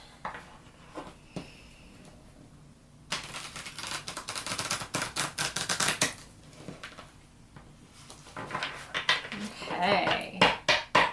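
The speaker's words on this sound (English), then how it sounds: "I'll shuffle this one a little bit." Cards are shuffled in quick, crisp riffling bursts, with soft handling sounds and a few quiet clicks between shuffles.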